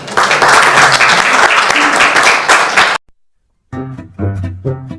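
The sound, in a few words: applause at a ceremony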